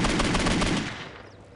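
A loud, dense burst of rapid-fire gunshots in a shooter video game, blurring into a continuous rattle before tailing off.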